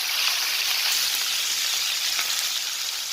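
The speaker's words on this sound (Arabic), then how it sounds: "من كده بنحمرها نديها لون بس" Chicken browns in a pan on a gas stove, giving a steady, close, even sizzle of frying with no break and no voices.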